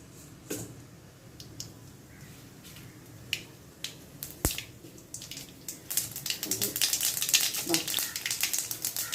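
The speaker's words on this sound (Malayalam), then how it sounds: "ശകല എണ്ണ ഒഴിച്ച് ശകല കടുക് ഇടാം." Mustard seeds sputter in a little hot oil, with scattered sharp pops that build into a dense, crackling sizzle over the last few seconds.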